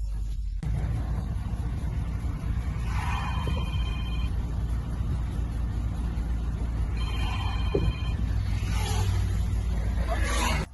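A diesel truck under emissions testing drives a test track, its engine a steady low drone that runs throughout, with faint high tonal whines rising at times.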